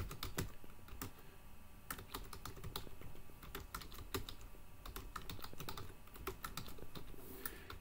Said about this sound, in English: Now you'll notice I'm typing in Notepad++